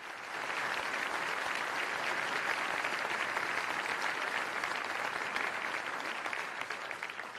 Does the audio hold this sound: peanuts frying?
no